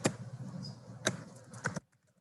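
Someone types on a computer keyboard, a few close, distinct key clicks spaced unevenly over a soft background before the sound stops.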